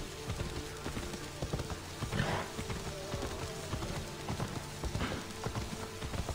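Horse hooves clip-clopping at a steady trot in Assassin's Creed Odyssey, a quick rhythmic patter of hoofbeats over faint background ambience.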